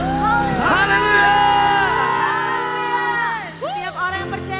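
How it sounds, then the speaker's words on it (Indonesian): A church congregation at a worship service cheers loudly with overlapping shouts and whoops. The sound is continuous and close, and no distinct clapping can be made out. "Tepuk tangan yang terbaik buat Tuhan"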